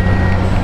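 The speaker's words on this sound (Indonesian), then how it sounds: "ada truk mau masuk." Truck reversing beeps from a truck entering a levee construction site at the Lapindo mudflow lake, a steady high tone over loud engine rumble throughout.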